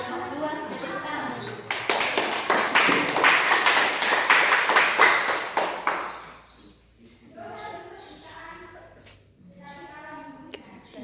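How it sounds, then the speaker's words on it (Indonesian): Classmates in a school setting clapping for a presenting group, a burst of several seconds of close, rapid handclaps that stops abruptly, followed by a person speaking. "kita tepuk tangan"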